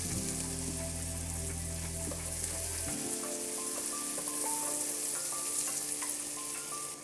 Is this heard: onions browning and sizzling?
yes